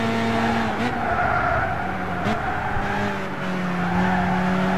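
Renault Clio RS in Gran Turismo 6 sliding through a corner, its engine droning steadily at close range with tire squeal layered over the motor as the car skids under throttle and braking.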